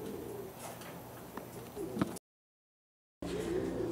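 A pigeon coos softly in a dove-keeping setting, several low murmuring calls against faint background noise with a brief silent gap, fairly close but quiet.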